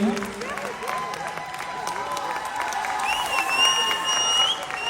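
An audience at an awards event in Canada applauds as Bala is invited onto the stage, a steady wash of clapping with a voice speaking over it and music tones rising toward the end.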